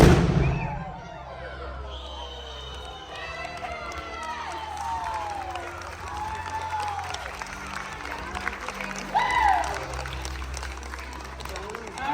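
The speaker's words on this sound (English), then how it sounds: "Hydrogen oxygen explosion in 3, 2, 1." Hydrogen-oxygen explosion at a live science museum demonstration: a sharp loud bang at the very start, followed by a crowd cheering, whooping and applauding for several seconds.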